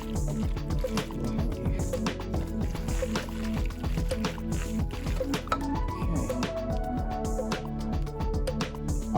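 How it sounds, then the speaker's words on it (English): An egg and milk mixture is stirred in a bowl for baked white macaroni and cheese, producing a steady, close run of wet sloshing and clinking as the whisk or spoon keeps moving. "Let's stir this up real quick."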